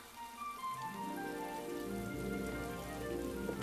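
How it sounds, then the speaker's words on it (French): Steady rain falls without pause, a dense wash of drops close by, with faint tonal background sounds mixed in and nobody speaking. "La pluie, encore la pluie."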